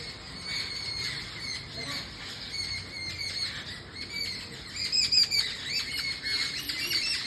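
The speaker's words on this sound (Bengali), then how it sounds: "আজ সকাল থেকে এই পাখিগুলো এসছে এত কিচির মিচির শুরু করেছে" A flock of birds chirps and squawks continuously nearby in a jackfruit tree, with crows gathered among them, overlapping calls growing busier toward the end, with no talking.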